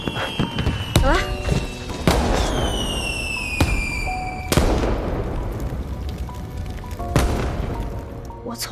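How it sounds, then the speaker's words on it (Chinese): Fireworks bursting in the sky, a run of loud booms and crackles with whistling streaks gliding down in pitch, spaced irregularly over several seconds, fairly near and without talk. "我看着天空中的烟花。"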